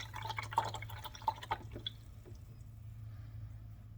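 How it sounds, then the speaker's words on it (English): A paintbrush is swished and rinsed in a cup of water, giving a few soft drips and light splashes over a steady low hum, then fading to quiet with no voices. "clean off our brush in our water"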